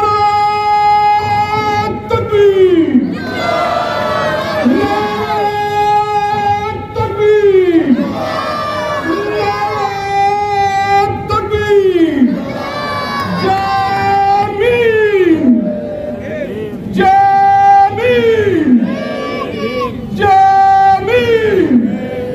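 Large crowd at a political rally chanting the takbir slogan in loud call-and-response waves, a leading voice calling out and many voices answering in unison, repeating about every two and a half seconds.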